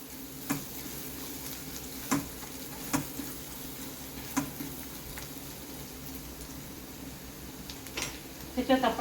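Garlic frying in a pan for Mumbai Saraswat-style bombil bhujane, a steady soft sizzle running throughout with occasional louder stirring clicks and scrapes of a spoon against the pan.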